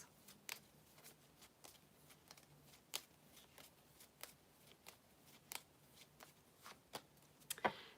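Tarot and oracle cards shuffled by hand, with repeated crisp riffling bursts in a steady rhythm, fairly quiet and close, no talking.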